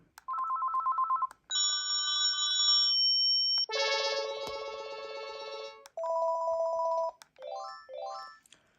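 A Panasonic KX-TGJ420E cordless phone cycles through several electronic ringtones, beeping melodic tone patterns in short bursts separated by brief gaps, clear and close.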